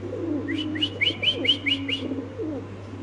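Fancy pigeons at a pigeon farm coo and call in a run of about eight short, evenly spaced notes, close and clear over a low, constant hum.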